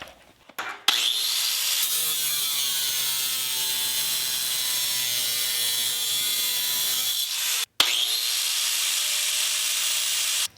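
Cut-off saw fitted with an abrasive metal blade, running loud and steady with a harsh grinding whine through a long cut, briefly stopping near the end before spinning back up.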